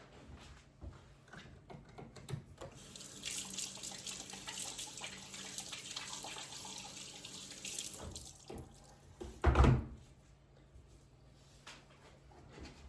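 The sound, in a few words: washing hands under running tap water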